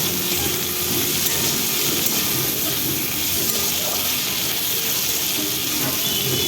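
Ground green chili, ginger and garlic paste frying in a pan, a steady dense sizzle holding evenly throughout without pauses.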